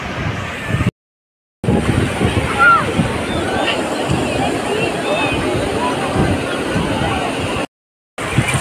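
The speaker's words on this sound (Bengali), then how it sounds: "সমুদ্রের ঢেউ এসে যখন পাকে ছুঁয়ে দিচ্ছে কি শান্তি লাগছে" Sea waves at Digha beach slosh and wash over bare feet at close range, a steady churning surf with muffled crowd babble behind, broken by two brief dropouts.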